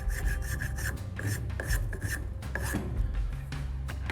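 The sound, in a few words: wood being shaped with a rasp or spokeshave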